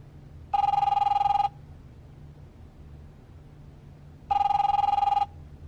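A telephone rings in two identical electronic bursts about a second long, spaced several seconds apart, loud and clear over a low steady background rumble.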